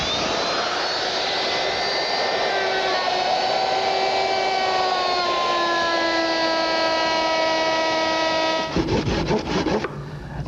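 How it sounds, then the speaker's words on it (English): An electric router cuts a rabbet in wood, a loud sustained high whine whose pitch sags slightly under load, ending with rough chattering as the cut finishes. "Let's turn this on and make our rabbet."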